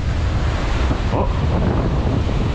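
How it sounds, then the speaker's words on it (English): Wind blowing hard along an ocean shore while fishing for halibut and surf perch before a storm, a steady, loud broadband roar with surf mixed in and no clear talk. "Wind makes it hard."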